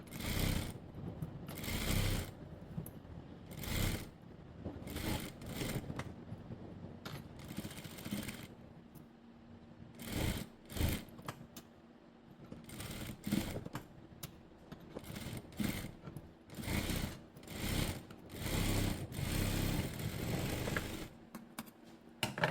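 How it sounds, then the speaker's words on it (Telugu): Sewing machine stitching a government school coat, running in repeated short bursts separated by pauses and handling clicks, fairly close and moderately loud. "ఇప్పుడు దీని పైన కుట్టు అనేది రావాలి."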